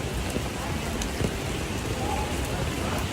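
Steady rain falls across Midtown Manhattan near Bryant Park, a dense continuous hiss of drops on surfaces with a few sharper splats, filling the scene alone with no voices.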